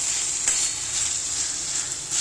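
Chicken pieces for a quick chicken curry fry in oil in a pan, giving a steady, close, bright sizzle that crackles without a break throughout, with no voices.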